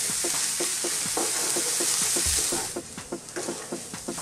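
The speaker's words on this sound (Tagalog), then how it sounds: "So lulutuin lang po natin yung gulay ng mga 4 to 5 minutes." Vegetables for chicken spring rolls sizzle steadily in a hot pan, with bursts of stirring and scraping clatter close by, the frying hiss continuous throughout.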